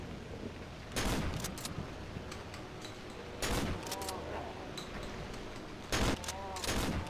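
Three sharp, booming shotgun blasts in the game Cry of Fear, spaced a few seconds apart, each with a short ringing tail, over steady game background noise.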